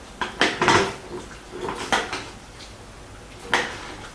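A spoon stirs roux into Japanese curry in a metal pot, making several close, distinct scraping clatters and knocks against the pot in short irregular bursts with quiet gaps between.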